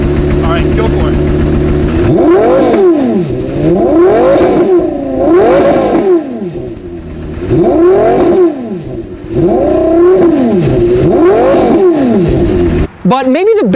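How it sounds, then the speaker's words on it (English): A Porsche Carrera GT V10 engine revs repeatedly, rising and falling in loud, close sweeps roughly every second or two, with brief lulls between bursts and a sharp higher-pitched shriek near the end. "And boy, does that engine sound good."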